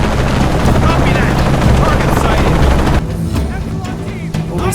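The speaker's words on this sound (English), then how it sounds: "Always hated helicopters." A helicopter in the video game Shadow of the Tomb Raider, set in Cozumel, gives a loud, dense rotor roar that drops to a thinner, quieter drone partway through.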